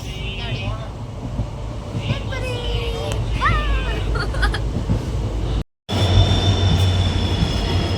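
A train rumbles steadily with a low engine drone into Sagar railway station, a few short high squeals and chirps, and a brief cutout before the rumble resumes.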